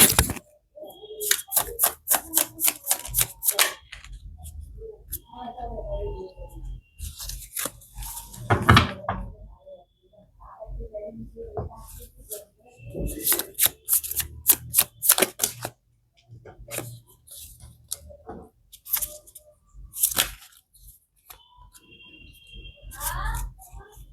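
Tarot cards are shuffled close up in quick crisp bursts of riffling and flicking, with short pauses between rounds and faint handling sounds in the gaps.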